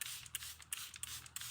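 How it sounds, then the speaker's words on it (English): Water is sprayed from a pump bottle onto a silk-covered canvas in short hissing bursts, several quick sprays close by with brief gaps between them. "spray my canvas down"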